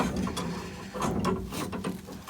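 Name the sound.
tightening a main water shut-off valve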